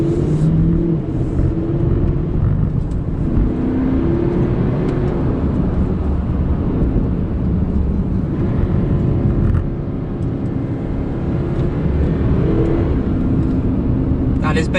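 A Porsche Panamera diesel revs hard toward the red line while climbing hairpin bends in winter, a steady muffled engine drone heard from inside the cabin, subdued rather than loud, with a voice talking over it.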